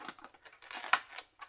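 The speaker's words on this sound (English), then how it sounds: "I'm going to take my scissors and I'm going to cut" Quick snipping of scissors cutting a balloon, a series of small crisp cuts with one louder snap near the middle, close and fairly quiet.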